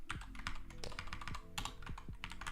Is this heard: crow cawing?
no